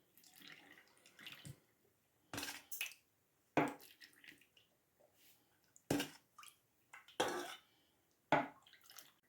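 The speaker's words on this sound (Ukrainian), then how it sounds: "Тепер наші огірочки заливаємо нашою заливкою." Homemade brine poured over cucumbers packed in glass jars, heard as quiet splashing pours and drips in separate bursts, each jar filled in turn with near-silent gaps and faint handling clinks.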